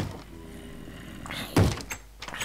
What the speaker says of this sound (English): That sound that you heard is a zombie breaking down a door.